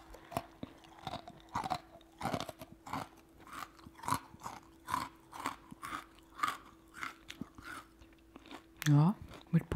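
Close, crisp crunching of Spekulatius spiced cookies being bitten and chewed in a regular rhythm of soft bursts, with a quiet voice talking between bites.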